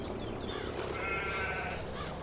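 Sheep bleat in a farming video game, several short wavering calls close by over steady ambient game background, with the last bleats forming a quick repeated pulse.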